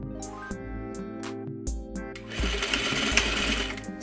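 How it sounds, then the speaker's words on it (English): A sewing machine stitches a trouser fly piece in short close bursts that stop and start, then runs into a longer steady whirring run, loud and with no voices. "Sew your fly piece in place"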